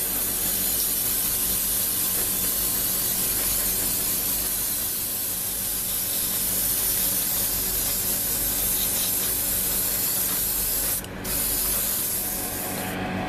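Continuous close airbrush spray hiss of thinned Tamiya LP24 semi-gloss clear lacquer paint on a plastic model kit, steady throughout with one brief dip near the end.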